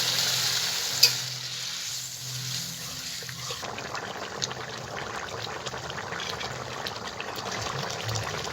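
Rohu fish and cauliflower curry frying and being stirred in spice paste, a steady crackling sizzle with a sharp clatter near the start and a brighter, denser hiss after a few seconds.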